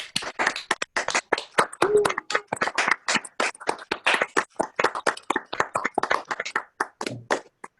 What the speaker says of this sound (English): give a big round of applause for our featured poets and for Linda